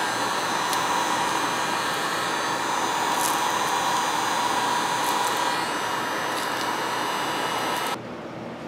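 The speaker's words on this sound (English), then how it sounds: "I'm just trying the heat gun as a" A heat gun blows hot air onto old pine rosin to melt it, a steady loud whooshing hiss up close that drops in level near the end.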